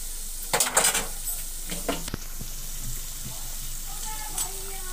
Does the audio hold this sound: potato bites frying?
yes